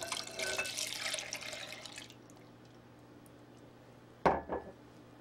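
Milk and light cream being poured into a bowl of beaten eggs for a custard pie, a soft liquid stream for about two seconds, then quiet and a couple of sharp clinks of a utensil against the bowl.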